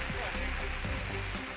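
Heavy rain falls during a nationwide downpour in Sri Lanka, including the hill country, as a dense, steady hiss under a voice talking.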